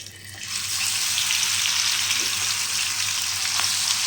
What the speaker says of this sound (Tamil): பாறை மீன் போட்டாச்சு பாருங்கள் நல்லா வறுத்துடலாம் மக்களே